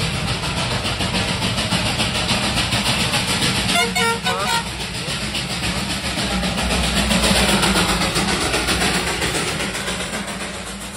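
Heavy traffic jam on a Darjeeling hill road near Batasia Loop, with engines idling and car horns tooting in short bursts amid general street noise and voices talking nearby.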